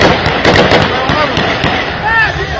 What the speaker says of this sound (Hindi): एक बार फिर सुनिए गोलियों की थर्रा देने वाली आवाज।